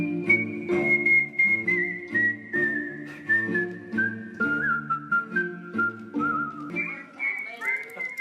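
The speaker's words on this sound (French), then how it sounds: "ce spectacle-là se fait tout en sifflant" A person whistles a performance piece on a theatre stage, with a clear, sustained melodic line sliding slowly downward and then jumping back up, close and steady throughout with no other voices.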